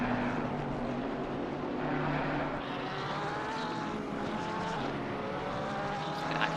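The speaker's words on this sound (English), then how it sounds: "That big Bentley just going through its paces." A Bentley race car in Gran Turismo sends out a steady, loud engine roar that holds a continuous droning tone throughout without letting up.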